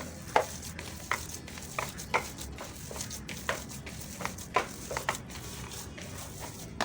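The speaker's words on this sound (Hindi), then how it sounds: "मैंने इसको अच्छी तरह से मिक्स कर लिया है।" A mixture of minced beef for kofta is mixed, giving a steady series of soft, moist squishing and tapping strokes in a regular rhythm, close up, with no talking.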